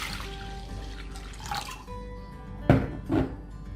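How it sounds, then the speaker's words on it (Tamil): Water splashes and gurgles as about three cups are poured into a pot of washed lentils for dalcha, with a couple of heavier glugs near the end. "இந்த பருப்பில் ஒரு 3 கப்பு போல் தண்ணி விடுறேன்"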